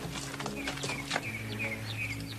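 Horse hooves clip-clopping at an easy walking pace, with birds chirping faintly in the background and music playing.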